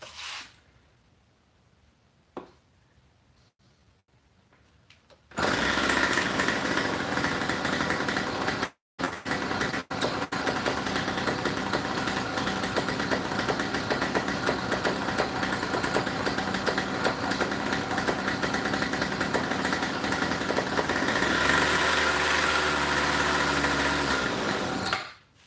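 A string trimmer's small engine sits quiet at first with a few faint knocks, then fires up loudly. It stutters once briefly, then runs on in a steady high-pitched buzzing idle, with a lower throbbing near the end.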